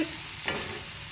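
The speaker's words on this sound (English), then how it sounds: "Now let me mix this up a little bit because I don't want it to stick." Green salsa ingredients being stirred in a hot pan, with a soft continuous sizzle and a single quick scrape of the spoon, close and fairly quiet, with no voices.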